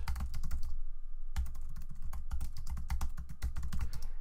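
Rapid, close typing on a computer keyboard with fast irregular key clicks, broken by one brief pause and with no voices.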